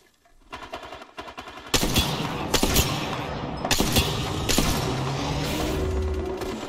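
Gunfire in the shooter Apex Legends crackles in dense, overlapping bursts of rapid automatic shots. The firing is loud and close, and it runs almost without pause after a quieter opening second.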